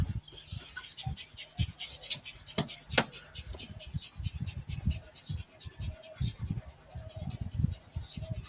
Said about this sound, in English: I can hear the sandpaper working.